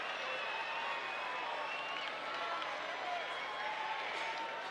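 Rugby crowd at a schools match between KES and Grey College roaring after a try: a steady, distant wash of cheering and applause holds level throughout, with a commentator speaking over it.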